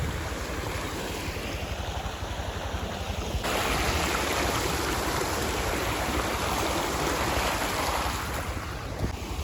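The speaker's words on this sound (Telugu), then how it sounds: "ఇదే జలపాతం మనం దాటుకుంటూ వచ్చేది." A waterfall stream at Bhimuni Padam in Telangana rushes loudly and steadily at close range as it is crossed, a dense continuous wash of flowing water with no voices.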